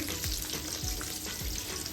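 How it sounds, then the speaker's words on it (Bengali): Coconut-filled puli pitha fry in oil with a soft, steady sizzle and bubbling, plus three low thumps from moving the pieces in the pan at a regular pace. "এখন আমি পুলি পিঠাগুলো ভেজে নিচ্ছি নারিকেল পুলি পিঠা"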